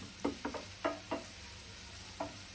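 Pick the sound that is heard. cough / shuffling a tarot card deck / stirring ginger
stirring ginger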